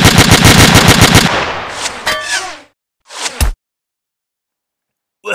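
Rapid machine-gun fire rattles loudly for over a second, followed by scattered single shots and thuds, then silence broken by a last brief burst.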